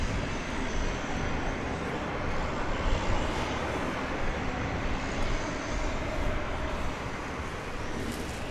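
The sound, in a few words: Super Cargo Master cargo plane at DFW Airport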